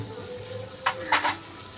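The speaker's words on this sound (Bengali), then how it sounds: "এবার টক দইয়ের সাথে আমি মশলাগুলো আবার একটু কষিয়ে নেব।" Spices frying with sour yogurt in a pan for a rohu fish kalia curry, a steady low sizzle with two short bursts of spoon scraping and stirring, close, no talk.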